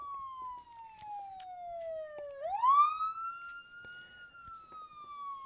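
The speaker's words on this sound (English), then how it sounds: "We got to get the ambulance out here." A wailing emergency siren sweeps down in pitch, then swings back up and holds in a slow rising and falling tone, loud and clear with no speech.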